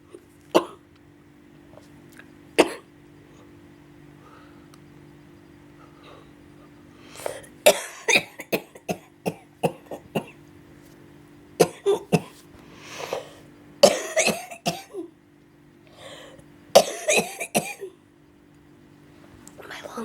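A person with a painful headache coughs repeatedly, sharp bursts scattered in irregular clusters, some isolated and others in rapid runs, close and fairly loud against quiet background hum.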